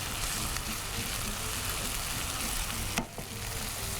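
Aloo anda curry base sizzling and being stirred in a hot pan, a continuous close frying hiss with a sharp scrape of the spoon near the end, no talk.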